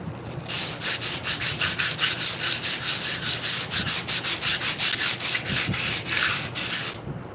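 A rusty horn is rubbed by hand in quick, even back-and-forth strokes, a close rhythmic scraping that runs for several seconds before slowing and stopping.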